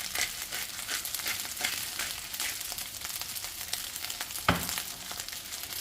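Vegetable fried rice is stirred in a pan with black pepper, a light sizzle under repeated scraping strokes of a utensil, one sharp knock near the end, close and fairly soft.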